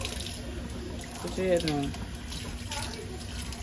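A sink tap runs steadily during a child's wash day, a close splashing stream under a woman's coaxing speech and a child's brief cry.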